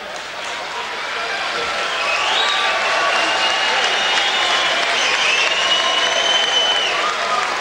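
A boxing crowd at a heavyweight bout between Evander Holyfield and John Ruiz applauds and cheers loudly, a sustained roar of clapping with shouts and whistles rising above it.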